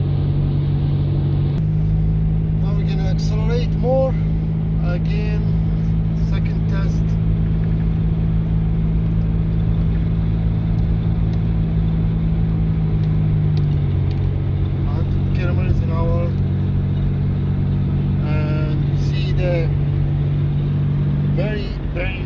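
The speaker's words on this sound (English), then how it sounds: "Now we're gonna accelerate more." A car, one being driven to check for shaking and vibration, accelerates uphill. Its engine drones in a steady low rumble that shifts in pitch a couple of times, while a voice talks over it throughout.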